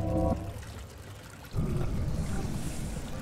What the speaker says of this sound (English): Let's take a shower real quick